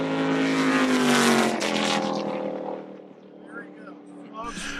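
A 1968 Lola T160 race car on a circuit, its engine revving loud and close as the driver adds throttle and shifts into third, the note rising then falling away as the car settles for the corner.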